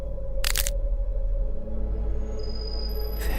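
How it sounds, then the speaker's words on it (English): Pieces cracking off a face, rendered as one sharp, close crack-like burst against a low steady hum, followed later by faint high tones and a second brief snap. "making a cracking sound as they go."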